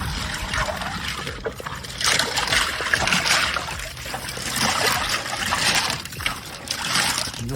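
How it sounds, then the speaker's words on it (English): Rocks are stirred around in fountain water as it is pumped out, producing loud, uneven sloshing, splashing and trickling in surging bursts, close by with no talking. "I'll come in here, stir all these rocks around, and I'll get all that debris on the bottom stirred up"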